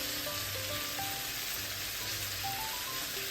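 Barbecue sauce frying in a pan for lemon barbecue chicken, giving a continuous dense crackling sizzle with a rain-like texture that holds steady throughout, with no talking.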